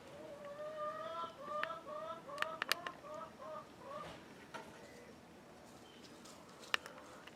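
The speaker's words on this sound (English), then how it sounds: "all the chickens are doing wonderful," Backyard hens cluck softly in short, scattered bursts at a moderate distance, with a few sharper calls breaking through a quiet outdoor background.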